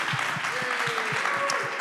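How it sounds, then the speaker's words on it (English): An audience at a town hall event applauds steadily, with dense, even clapping and a few louder nearby hand claps keeping a rhythm, while faint voices murmur underneath. "Y'all can go ahead and clap."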